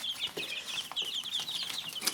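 A brood of fourteen two-week-old chicks keeps up a continuous chatter of shrill peeps, near and fairly dense, with a few brief scuffling sounds mixed in.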